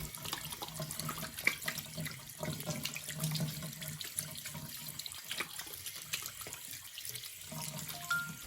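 Hands being washed under a running tap: a steady, close splash of water over the sink with small irregular splatters, heard on its own.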